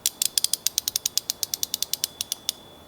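A small Craftsman ratchet wrench clicks in a rapid, even series of sharp metallic ticks, close up and crisp, with no talking.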